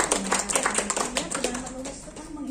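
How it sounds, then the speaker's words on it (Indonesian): An audience claps briefly at an Indonesian talk, the scattered, uneven claps overlapping with a speaking voice and a steady sustained tone throughout. "Tepuk tangan dulu."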